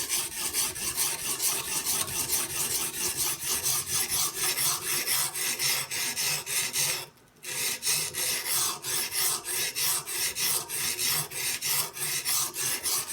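A Benchmade Bushcrafter 162 knife blade is stroked steadily across a Hapstone sharpener stone, giving a rapid, even run of raspy scrapes close up, broken by one brief pause midway before the strokes resume.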